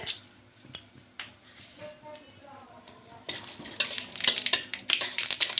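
Whole mustard seeds fry in a pan with bay leaf while being stirred, a spoon scraping softly before a dense, crackling patter of popping seeds builds up, with a voice speaking over it.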